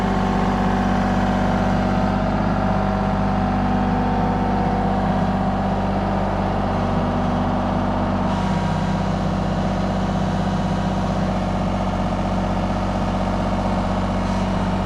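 A heavy excavator engine runs steadily throughout as the machine digs and swings around to line back up, a continuous loud low diesel drone with slight changes in load and no speech.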